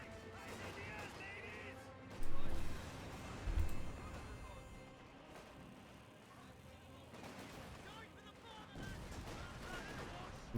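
Gunfire and explosions from the Company of Heroes 2 strategy game with British forces, two heavy booming blasts early on followed by scattered crackling shots, all under someone talking.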